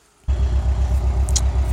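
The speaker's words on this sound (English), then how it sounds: "But we'll see what happens when I turn the car back on." A Nissan SR20DET engine fires up after a pause and settles straight into a steady, throbbing idle with a low pulsing rumble, close and loud with no speech.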